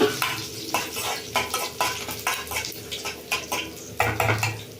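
Mustard seeds, curry leaves and garlic go into a hot pan for a drumstick-leaf palya and are stirred: a steady rhythm of spatula scrapes and clinks against the pan, close and fairly loud, over a faint sizzle.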